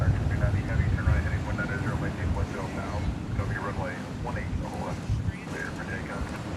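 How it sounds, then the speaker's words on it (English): A Boeing 777-200ER airliner bound for Rome at Dallas Fort Worth airport, a low, steady engine rumble mixed with wind buffeting on the microphone, with voices talking over it. "Meanwhile, this is the flight to Rome. The 777-200ER."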